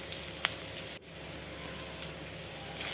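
Panch phoron and dried chilli hitting hot oil left over from frying fish, a steady close crackling sizzle with a few sharp pops and a brief scrape near the start.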